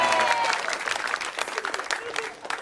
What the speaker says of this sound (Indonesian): baru tepuk tangan di situ.